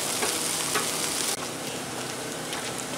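Okra frying on a Blackstone griddle outdoors, a steady close hiss and crackle of oil that holds constant throughout with no talk.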